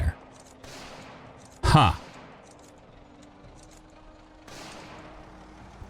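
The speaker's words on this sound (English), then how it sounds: "And that's gunfire." Gunfire in the video game Project Zomboid: a sharp, loud burst of shots cracks out once, mid-distance, over a faint steady background hum, followed by quieter rumbling echoes, with a brief muttered voice.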